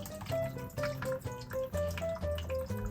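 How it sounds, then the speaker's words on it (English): Water pours and splashes steadily out of a sprinkler system valve being drained for winter, a continuous close gushing with gurgling, ringing tones and no talking. "So I just wait until the water is done pouring"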